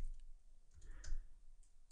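A few light clicks of keys being typed on a computer keyboard while entering an email address, quiet and sparse over a low room hum.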